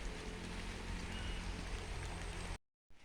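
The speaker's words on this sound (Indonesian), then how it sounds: "Hujan." Rain falls beside a fish pond as a dense, steady hiss, constant for two and a half seconds before cutting to brief silence and resuming.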